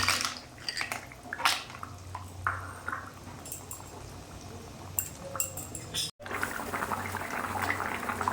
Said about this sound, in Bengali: ভাজা বড়িগুলো দিয়ে দিলাম।